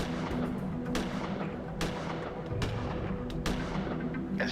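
Gunfire in the sci-fi adventure game Gemini Rue: repeated sharp shots crack out one after another over a dense, rumbling game soundtrack.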